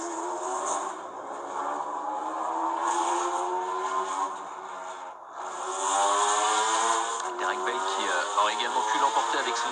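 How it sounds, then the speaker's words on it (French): A Corvette Callaway race car at the 1995 24 Hours of Le Mans, its engine droning and rising in pitch as it pulls away, heard under continuous commentary. "Alors qu'ici nous sommes avec la Corvette Callaway de Jelinski, Hanser et Bertagia."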